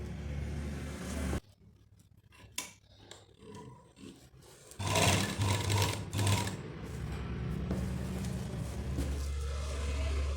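A domestic sewing machine stitches a seam right alongside piping on a garment, running in loud whirring bursts separated by pauses and handling sounds, with no speech.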